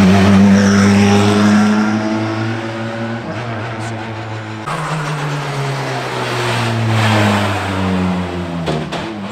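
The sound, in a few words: four-cylinder rally cars passing at a hairpin, engines revving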